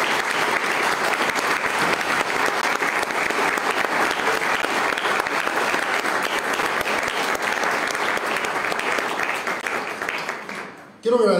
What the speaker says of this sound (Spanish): Les pido un aplauso para don Félix Ramales García y don Antonio Tlatelpa Pérez